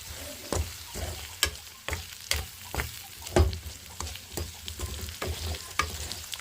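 A potato and egg fry is stirred in a pan, a spatula scraping and knocking in a regular rhythm over a low sizzle, close and fairly loud.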